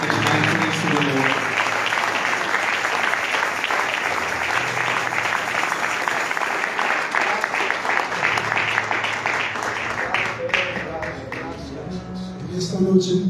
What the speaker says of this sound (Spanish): Si le puede dar un aplauso a nuestro Señor.